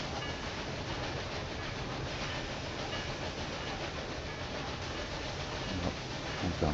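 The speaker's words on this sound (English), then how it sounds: "It's the next passenger train. Well, mail train actually." A mail train runs in the video game Railway Empire 2, producing a dense, steady rumble and rattle of rolling wagons that holds at an even loudness throughout, with no voices.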